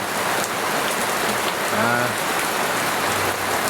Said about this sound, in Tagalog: sumilong kasi biglang bagsak lang din ng ulan